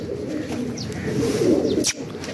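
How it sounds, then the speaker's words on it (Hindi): Pigeons coo in a steady low murmur, with a few brief wing flutters as the birds fly in and settle; continuous and fairly close. "ओ ये आए हैं जी अल्हम्दुलिल्लाह कबूतर ये आए हैं"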